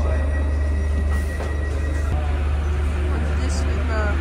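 Steady low rumble of a Paris metro train in motion, with rattling carriage noise and faint high squeals throughout, continuous and close.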